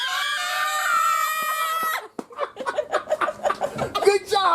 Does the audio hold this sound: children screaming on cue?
yes